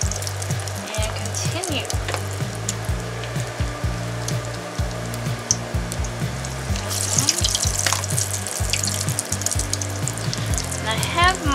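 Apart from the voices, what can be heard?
salmon croquette patties frying in grease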